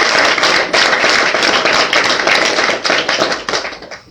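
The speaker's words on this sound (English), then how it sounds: "Please give them a big round of applause" Hawks players in an arena get loud, dense applause from a crowd, many hands clapping continuously at close range before the sound thins and fades at the end.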